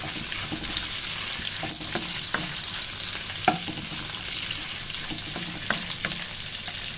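Steady frying sizzle of garlic and shallots in a pan, with occasional clinks and stirring scrapes over a constant hiss.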